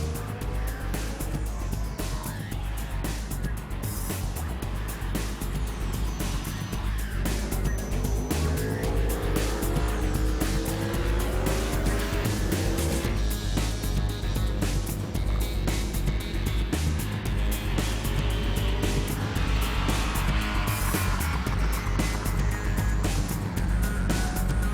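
Motocross motorcycles riding a dirt track at MX Elite Ernée during a wheelie session, engines buzzing and revving continuously with rising and falling pitch as bikes pass, loud and unbroken throughout.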